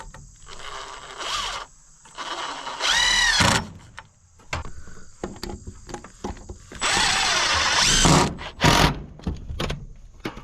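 A power drill drives fasteners through metal strap ties on an outdoor rain shelter, whirring in several short bursts with scraping and clattering handling noise between them.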